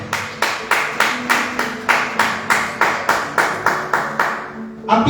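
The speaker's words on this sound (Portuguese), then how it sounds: "dê uma salva de palmas ao nome de Jesus" A church congregation claps in a steady, unison rhythm at a Sunday morning family service, honoring the name of Jesus; about a dozen evenly spaced, fairly loud claps run alone before a brief louder burst at the end.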